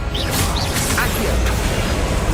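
Accio spell cast in the Hogwarts Legacy video game: a loud, dense magical whoosh with rushing texture and brief swishing accents, filling the short moment with no voice.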